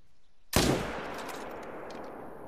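A single loud rifle shot fired at a bull elk in a hunting video game, a sharp sudden crack followed by a long decaying rumble and echo across open terrain, with no talking.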